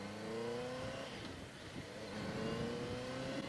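A Honda CB650F motorcycle engine revs hard and loud on a night ride, its pitch sweeping up and down through the gears with wind rush, and no talking.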